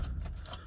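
A ring of keys jangles with a brief metallic clatter close by, near a vehicle, with no talking.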